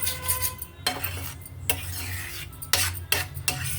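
Chopped onions are mixed in a bowl with a spoon, giving close, uneven clinks and scrapes in several short bursts with brief pauses between.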